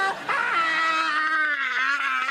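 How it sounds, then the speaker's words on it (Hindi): A man screams in pain after falling in a comedy scene, one long sustained harmonic wail lasting the whole moment, loud and close, with no talk over it. "अब चिल्ला रहे हो।"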